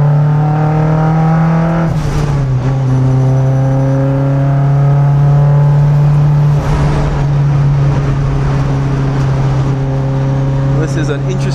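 A boosted Mazda MX-5 Miata races at The Bend circuit in Australia, its engine droning loud and steady from onboard with a strong sustained tone and slight pitch shifts through corners, while someone talks over it.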